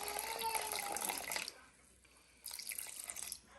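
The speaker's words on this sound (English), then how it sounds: "you're gonna pour in 350 grams of room temperature filtered water" Room-temperature filtered water poured into a bowl of bread starter, a close splashing pour that stops halfway, then a second shorter stream of trickling water before it fades.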